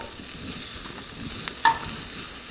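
Beef crowns laid face down in hot oil in a frying pan give a soft, steady close sizzle with faint crackles and a brief brighter pop partway through.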